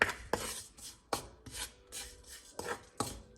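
A spoon scrapes and stirs biko rice cake mixture in a pot, repeated rhythmic rasping strokes about twice a second, close and fairly quiet, with no talking.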